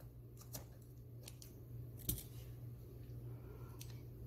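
Scissors cut through shoelaces tucked under a shoe, a few quiet, close snips with one sharper cut in the middle, set against a low steady hum and no speech.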